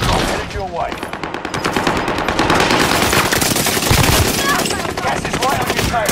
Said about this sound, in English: Enemy is firing on me